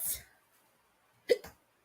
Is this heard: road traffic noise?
no